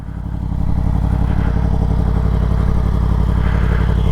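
A 2023 Yamaha MT-10 motorcycle with an Akrapovic full titanium racing exhaust idles close by, a steady, loud, lumpy rumble with a fast, even pulse that rises slightly at the start and then holds.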